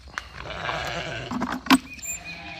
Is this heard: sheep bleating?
yes